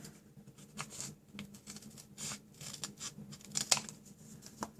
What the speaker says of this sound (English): I am going to cut a strip.